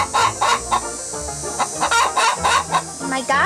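Chickens cluck repeatedly inside a chicken coop, loud and close, in quick uneven bursts with a crowing rooster among them.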